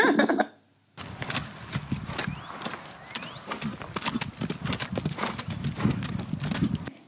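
Horse hooves clip-clop steadily and close while the animal is ridden on a leg of a state championship endurance ride, with brief bursts of wind or handling noise at the start.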